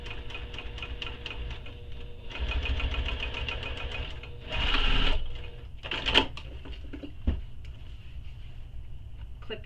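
A sewing machine runs top stitching along a tote bag panel in a steady, rapid mechanical rhythm, with a few louder thumps and pauses between runs of stitches.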